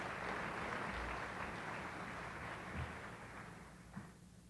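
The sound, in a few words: applause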